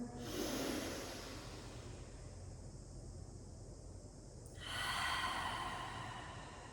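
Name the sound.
deep breathing in through the nose and exhaling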